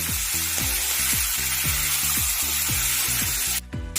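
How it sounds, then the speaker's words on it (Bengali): Vegetables fry in a pan for an oats dish, a steady sizzle under a regular, repeating low thumping pulse, with a brief drop near the end and no talk. "এর উপরে সব দিয়ে দেবো আনাজগুলো, এগুলো ভেজে নেব।"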